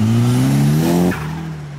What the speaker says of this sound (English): Turbo noises, yes. Love to hear that.